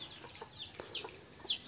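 Chickens clucking faintly at a distance on a farm, a few soft scattered calls with higher chirps over a quiet background hiss.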